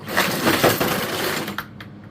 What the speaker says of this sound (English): I was just going to try to use my impact on it.